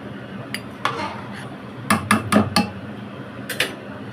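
A spoon scrapes and clinks against a metal pan while a Kashmiri chili powder mixture is stirred, giving a few scattered taps followed by a quick run of four close clatters and one more pair near the end, fairly soft.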